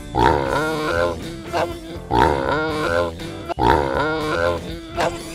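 Three grunting, oink-like vocal bursts repeat at a steady pace, sounding like a voice imitating a pig rather than a real animal.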